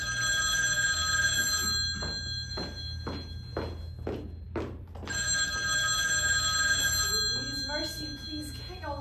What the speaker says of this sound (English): The phone rings, and Beelzebub dashes away.